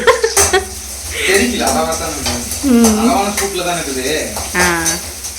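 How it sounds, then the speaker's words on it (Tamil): Green chili, shallots and curry leaves sizzle in hot oil in a pan, a continuous frying hiss heard under steady talking. "எண்ணெய் ஊற்றி பச்சை மிளகாய் சின்ன வெங்காயம் கருவேப்பிலை போட்டாச்சுங்களா"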